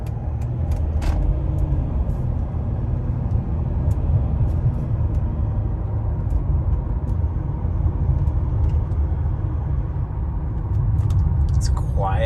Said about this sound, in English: It's quiet, but it has that rumble from the diesel engine that I love.